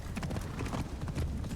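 Horse hooves clip-clopping in a steady trotting rhythm in the video game Assassin's Creed Shadows, fairly soft and continuous with a faint background bed.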